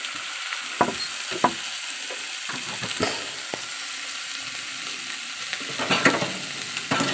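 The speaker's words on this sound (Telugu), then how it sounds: "ఆ తర్వాత దాన్ని అటు ఇటు కూడా కదుపుకోవాలి." Crab curry is stirred in a sizzling pan, with a constant frying hiss broken by sharp scraping strokes of the spoon against the pan at irregular intervals, close and clear.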